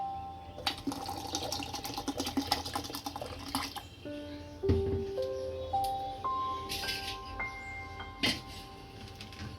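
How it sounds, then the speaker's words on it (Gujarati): Cold water is poured into a mixer jar holding raw mango, the stream's pitch climbing steadily as the jar fills, after a stretch of light clicking and handling noises nearby. "હવે આમાં થોડુંક ઠંડુ પાણી નાખીશું।"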